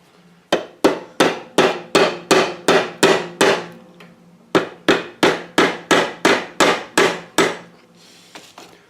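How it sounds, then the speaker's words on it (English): Small hammer tapping a metal bicycle pedal to straighten it during restoration, two runs of sharp, evenly spaced close strikes, about eight and nine blows each, separated by a brief pause. "giving a little tap down here with this, my little smaller hammer might work."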